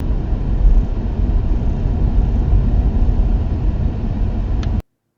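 Inside an electric car at night, a dash cam microphone picks up a steady low rumble of road and cabin noise that runs evenly for nearly five seconds and then cuts to silence.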